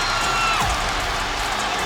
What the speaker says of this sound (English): Crowd has come back to life.